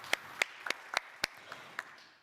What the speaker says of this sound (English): And a warm applause from the audience here for all the speakers.